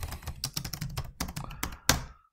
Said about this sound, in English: type the name of the composition.